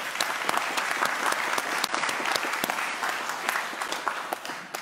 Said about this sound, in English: Challenge guys, a round of applause.